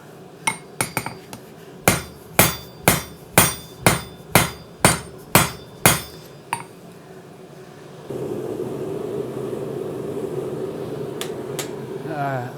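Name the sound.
Bailey hammer forging a knife blank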